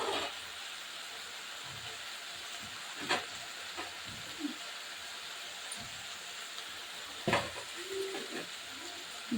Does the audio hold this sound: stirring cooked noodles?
yes